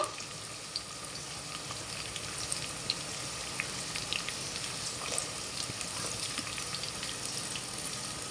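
Onions frying in oil for a mutton curry, a steady close hiss and crackle of sizzling with small pops throughout, no voices.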